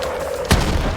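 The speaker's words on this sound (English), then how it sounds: "Then we hop out, chuck a few grenades here and there." A single heavy grenade blast in Borderlands 3 booms out mid-fight, a sharp loud burst that rumbles off over steady game noise.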